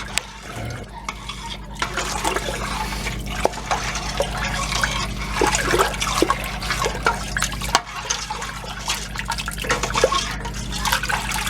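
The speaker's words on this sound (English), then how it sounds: "Let's stir this around a little bit and see." Stirring liquid in a pot of crawfish etouffee, with steady sloshing and dripping sounds throughout under a constant low hum.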